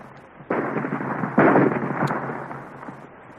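Radio-drama weapon fire blasts a rock apart: two heavy, booming bursts in quick succession, loud and close, each followed by a rumbling, crackling decay that fades over a few seconds.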